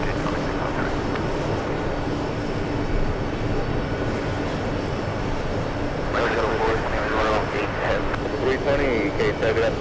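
Four-engine jet airliner taxiing at JFK airport, a continuous loud engine roar and whine from an outdoor spotting point, with voices and radio chatter heard over it.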